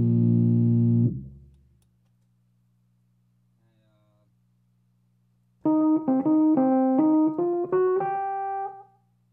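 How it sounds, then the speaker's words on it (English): A Fender Rhodes Stage 88 electric piano runs through Guitar Rig with a Swollen Pickle fuzz and a Marshall cab, first as a sustained distorted chord that decays, then after a pause as a loud gritty run of rising notes over a low hum. "that's the sound of the Rhodes through Guitar Rig, Swollen Pickle, and the Marshall cab"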